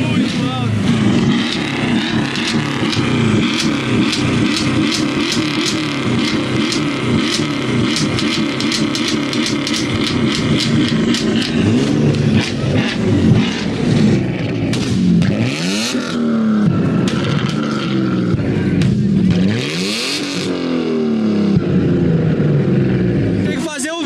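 A Mercedes E63 AMG with an aftermarket exhaust revs hard on a highway, its loud, close engine roaring continuously with repeated rising and falling sweeps as the throttle is blipped again and again.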